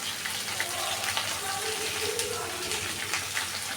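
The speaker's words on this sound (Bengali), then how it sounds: "তেল গরম হয়ে গেছে, পটলগুলো আমি তেলে এইভাবে ভালো করে ভেজে নেব" Pointed gourd (potol) pieces frying in hot oil with a little salt, a continuous crackling sizzle with scattered pops and spatters, close and fairly soft.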